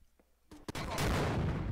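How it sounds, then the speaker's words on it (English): A rocket launcher fires in the blocky shooter game Blocky Combat SWAT Edge, a short loud blast with a sustained roaring rush after a couple of brief clicks. "the rocket launcher."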